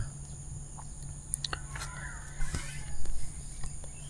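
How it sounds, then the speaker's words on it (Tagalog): Morning birdsong at a motorcycle campsite: scattered chirps and short calls, fairly faint and spread through the clip, over a steady low hum and insect-like high tones, with a few soft footstep-like knocks. "Nagising ako sa ingay ng mga ibon."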